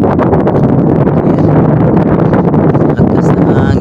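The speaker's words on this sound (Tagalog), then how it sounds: "Lakas ng hangin." Strong storm wind on a night fishing trip roars continuously, buffeting the microphone loudly with heavy rumbling gusts throughout.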